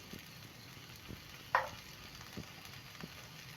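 Masala spice powders fry quietly in a pan for vegetable biryani, a faint, steady sizzle broken by a few soft scraping clicks as they are stirred.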